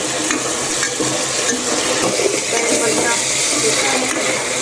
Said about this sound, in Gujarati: આવી રીતે ફ્રાય કરી નાખવાનું